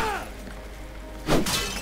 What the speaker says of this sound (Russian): А мы разбиваем вазочки.